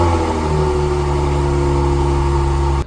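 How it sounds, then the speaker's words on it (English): A Range Rover Sport's supercharged V6 sits close and loud in a steady, rumbling idle after starting, its even drone holding without a break until it cuts off abruptly at the very end. "This car is equipped with a V6 supercharged engine that puts out about 340 horsepower"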